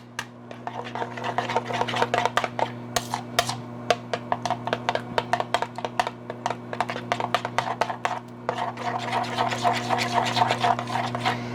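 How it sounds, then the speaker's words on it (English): Cottage cheese and eggs being mixed in a bowl, a rapid series of scraping, clicking strokes against the dish over a steady low hum, continuing for several seconds. "I have 55 grams of cottage cheese and 2 eggs. So I'm going to mix this up now."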